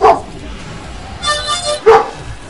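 A dog barks in a World of Warcraft arena match. There are two short, loud barks, one at the start and one near the end, with game effects and a brief whoosh between them.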